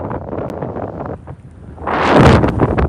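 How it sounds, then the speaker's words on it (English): Wind blows hard during a snowstorm at Ocean City, Maryland, rumbling and buffeting against the microphone in loud, gusting bursts that surge stronger toward the end. "It is blowing. There, back to the wind. And it is snowing."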